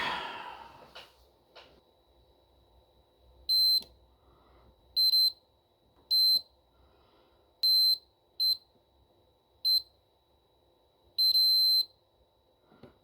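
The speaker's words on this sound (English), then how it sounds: "it's time for a quick continuity check" Multimeter continuity tester beeping on a dead-bugged PCB: a series of short, high, clear tones of uneven length, separated by quiet gaps, close by and without talk.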